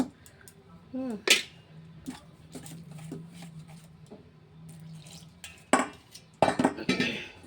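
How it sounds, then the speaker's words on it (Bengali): Carrot paratha dough is stirred with a little water in a bowl. A spoon clinks and scrapes against the bowl in scattered taps and knocks, with a few sharper strikes near the end and a voice speaking softly at times. "যে জল দিয়ে নিলাম, একটু নাড়াচাড়া করে একটু মিক্সড করে নিতে হবে"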